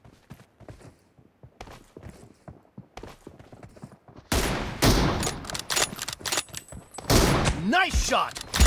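Gunshots crack in a PUBG Mobile match with M24 sniper play, a sharp loud burst breaking in midway after quieter clicks and mechanical movement, followed by further reports and rumbling.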